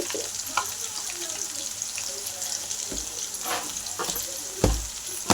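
Potatoes cook in a pan for sabudana khichdi, a faint steady sizzle with a few scattered clinks and stirring knocks, some louder near the end.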